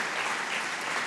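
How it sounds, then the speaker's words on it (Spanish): Church congregation applauding during a convention service, a continuous dense burst of many hands clapping at moderate level. "Le damos un aplauso al Señor."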